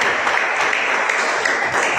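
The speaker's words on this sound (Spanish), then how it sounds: "Démosle un aplauso al Señor, por favor." Church congregation clapping together in a sustained, dense burst of applause at a Christian service, steady and fairly loud with no voices standing out.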